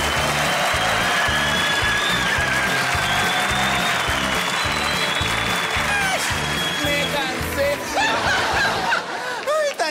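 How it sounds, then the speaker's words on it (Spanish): Steady applause from a crowd fills the clip, mixed with scattered laughter and a few voices near the end as the clapping thins. "Vamos a recibirla con un fuerte aplauso."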